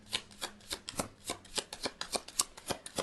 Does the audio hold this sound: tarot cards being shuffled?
yes